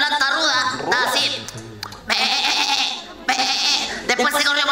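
On stage at a live comedy show, a performer's voice imitates a sheep grazing on grass, giving a few wavering, nasal bleats in close, loud bursts separated by short pauses.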